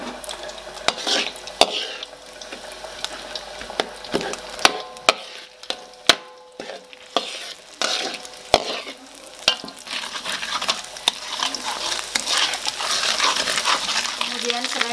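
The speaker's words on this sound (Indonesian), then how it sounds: "Nah, minyaknya udah panas," Shrimp paste hits hot oil in a pan for pindang balado, a crackling sizzle with frequent sharp scrapes and knocks of a utensil, the frying growing louder and denser toward the end.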